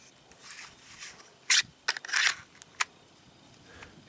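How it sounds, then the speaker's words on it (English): A Kydex inside-the-waistband holster takes a pistol, with soft rubbing and then a few sharp, quiet plastic clicks as the retention seats, close up and without speech. "there's a definite audible click when the retention sits in"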